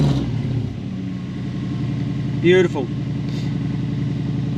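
Toyota 1UZ non-VVTi V8 engine idling after immobiliser-bypassed ECU testing, a steady low rumble throughout with a brief higher rev-like rise midway, while a person speaks briefly over it.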